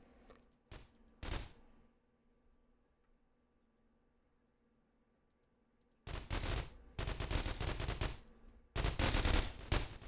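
Defensive turrets firing during a Hell Raid in The Walking Trade video game, a few short gunfire bursts early, then long loud rapid automatic volleys after a quiet stretch, with no talk.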